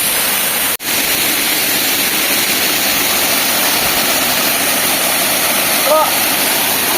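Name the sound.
Batlag Falls waterfall in Tanay, Rizal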